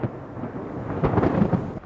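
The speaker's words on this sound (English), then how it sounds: "We also get continental thunderstorms that come off the land, very violent thunderstorms" Thunder from a violent continental thunderstorm rolls and rumbles low and deep, swelling louder in its second half before fading, with no talk over it.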